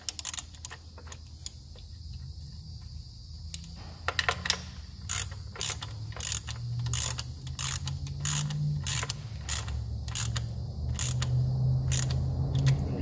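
A ratchet snugs down the 10 mm nut on a turbo kit bracket for a V6 Mustang, with rapid clicking pawl bursts coming in quick repeated strokes, close and crisp over a low background hum.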